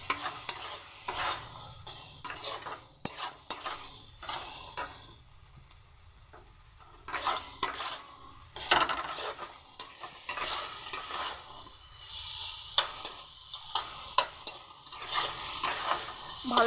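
Spices fry with mustard and cumin paste in a pan for a mixed vegetable dish, repeated scraping stirs over a soft sizzle, with a brief quieter gap midway.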